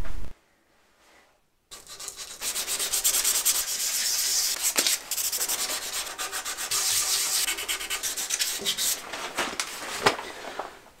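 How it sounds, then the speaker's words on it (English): Brief silence, then continuous close-up hand sanding of a carved walnut log, raspy back-and-forth strokes with a short pause midway. "Now it's time for some hand sanding."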